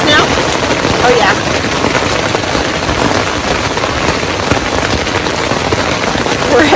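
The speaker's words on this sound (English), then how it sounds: "the rain started." Rain drums steadily and loudly on a tent on the Appalachian Trail, with possible hail mixed in, forming a dense, close, unbroken patter that never lets up.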